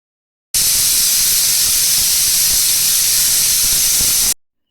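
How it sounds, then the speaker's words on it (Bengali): A pressure cooker holding braised meat lets out a loud, steady steam hiss that runs evenly for about four seconds and then cuts off, with no voices. "এই যে মাংসটাকে কষিয়ে প্রেশারে দিয়ে দিয়েছি"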